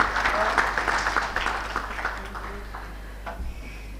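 An audience at a rail and transport expo session claps in a big round of applause that starts strong and gradually thins out, over a steady low hum from the hall.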